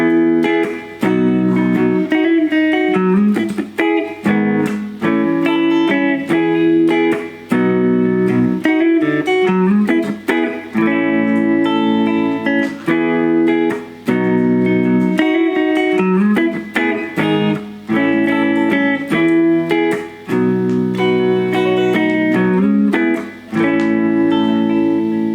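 Guitar playing the verse of a song very slowly, with ringing chords and small hammer-ons, a clear, steady, close instrumental passage with no talking.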